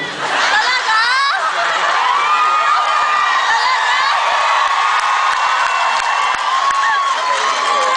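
A concert crowd cheers, whoops and claps continuously in a large hall, loud and dense throughout, with shrill voices rising above the applause.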